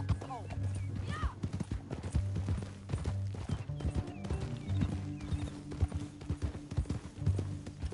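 Hooves clatter in a rapid galloping rhythm in the video game Red Dead Redemption 2, loud and steady, with a brief horse whinny and voices speaking over the pounding.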